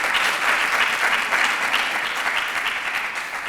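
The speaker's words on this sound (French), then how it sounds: "On peut l'applaudir bien fort." A studio audience at a French-language television show gives steady, dense applause that stays loud and even throughout, with no clear voices over it.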